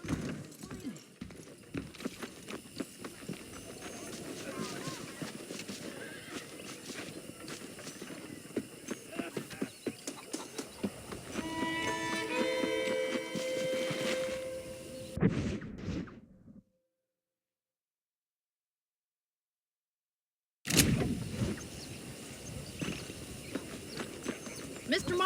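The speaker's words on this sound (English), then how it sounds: "The horses are saddled up over here." Horses in the Red Dead Redemption video game give off hoof clip-clops and snorts amid game ambience and spoken dialogue, with a sudden silent gap partway through before sound resumes.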